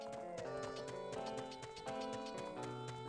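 Horse hooves clip-clop steadily in the N64 game Ocarina of Time, a quick even rhythm of clear hoof beats running throughout under the game's music.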